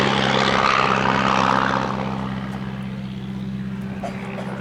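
A vintage propeller aircraft drones overhead at a military air show, loud at first then fading as it moves away, its steady engine hum lingering in the background.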